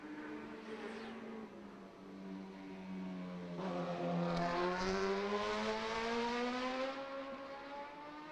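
Racing motorcycles circle the track in Macau Grand Prix qualifying, heard as a distant, whining engine note that rises and falls in pitch as a bike passes and then fades.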